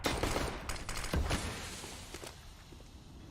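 Rapid gunfire from a CS:GO match on the Overpass map during a professional G2 Esports versus Fnatic game, a dense burst of shots early that thins out and fades, fairly quiet overall.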